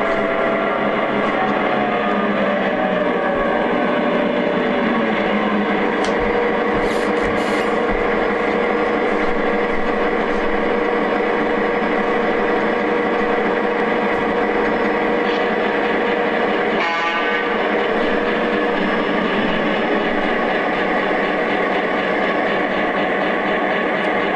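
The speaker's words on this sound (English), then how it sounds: "Absolutely amazing prime mover and just fantastic sounds." A steady, droning diesel prime mover rumble from a Lionel MTH E8 model locomotive, running continuously at an even pitch with a brief rise in texture partway through.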